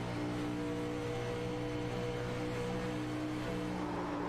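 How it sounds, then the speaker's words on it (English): Race car engines lap Daytona during the Firecracker 200, a continuous droning roar with steady engine tones, heard at a distance with no talking. "Let's just soak it in for a moment and listen to these cars work their way around Daytona."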